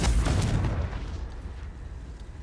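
A Confringo spell explosion in Hogwarts Legacy lands as a heavy, booming blast up front, its deep rumble fading over the next couple of seconds with a few light crackles trailing after.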